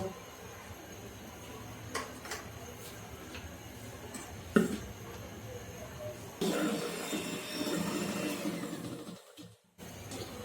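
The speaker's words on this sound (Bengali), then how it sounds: "এখন এর মধ্যে আমি হাফ কাপ রেগুলার রান্নার তেল দিয়ে দিচ্ছি দিয়ে আমি আবার বিট করে নেবো" Cake batter of melted sugar and regular cooking oil is beaten for a palm-fruit cake, starting as a low rumble with scattered knocks, then a louder whirring, churning stretch before it stops abruptly.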